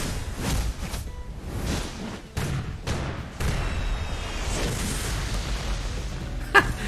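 Firework-style explosion from the Mist Guard skill in Tales of Crestoria, a series of booming bursts and crackles followed by a sharp pop near the end, fairly loud.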